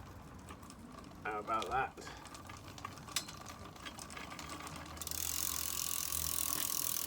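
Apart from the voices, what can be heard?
pedal pump spindle turned by hand, ratcheting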